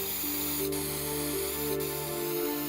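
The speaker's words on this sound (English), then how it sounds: "putting them all in the gun and spraying it on my arm" A spray gun hisses steadily as it mists a solution of the person's own skin stem cells onto an arm, a constant airy spray over a low hum, with two faint clicks and nobody speaking.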